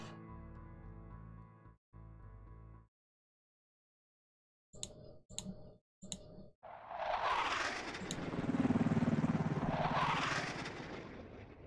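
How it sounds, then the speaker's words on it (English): Helicopters under attack in a battle in the strategy game SuperPower 2: a few short clipped effect bursts, then a swelling, loud rotor-and-engine roar that rises and falls as aircraft pass close. "A couple helicopters being attacked."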